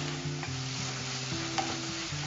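Onion, tomato and spices sauté in oil for a fish thokku, giving a continuous close sizzle with soft scraping stir strokes and a low steady hum underneath, no voices.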